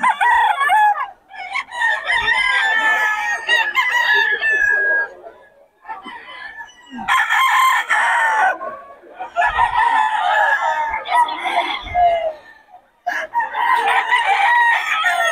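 Roosters at a fighting-cock market in Bocaue crow loudly and repeatedly, several long, strained calls overlapping one after another, close by and with barely any talk.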